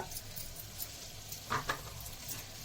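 Garlic, mustard seeds, fenugreek and cumin fry in hot oil for a gongura chutney, giving a faint close sizzle with a few crackling pops and light stirring; no talking.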